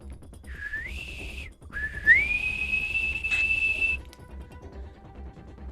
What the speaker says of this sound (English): A high-pitched whistle.